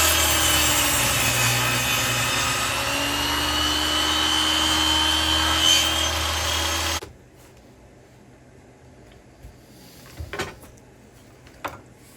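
A saw cuts wood for a custom bed frame, a continuous rasping drone that stops abruptly partway, followed by near-silence with a few faint knocks.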